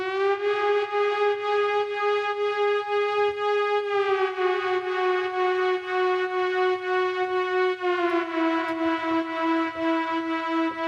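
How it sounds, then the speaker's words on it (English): A siren-like synth pad from the Diva synthesizer holds a warm, sustained tone rich in harmonics, its pitch sliding down in smooth steps every few seconds like a slow wailing siren. "that siren type noise, I actually really love it"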